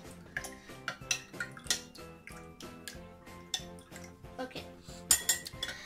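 Spoon stirred back and forth through a glass of Tang orange drink, with a steady run of metallic clinks and scrapes against the glass, close and fairly loud, ending in a sharper cluster of chinks.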